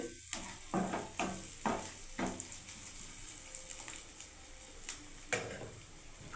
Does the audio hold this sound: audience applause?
no